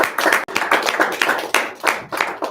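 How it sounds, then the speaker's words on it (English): A small group at a meeting claps close by, with distinct uneven hand claps and short gaps for under three seconds. "Give him a round of applause, John."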